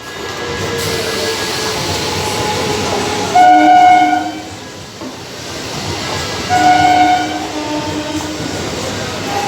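A train rumbles into a station, sounding two long horn blasts a few seconds apart over steady rolling noise.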